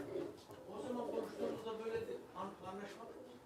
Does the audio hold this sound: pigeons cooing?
yes